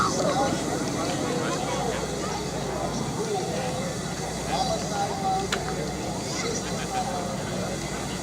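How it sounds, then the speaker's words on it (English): A 600-horsepower propeller aircraft engine drones steadily as it throttles back with gear down at an air show, loud and close, with someone talking over it throughout. "Throttling back on that 600 horsepower engine."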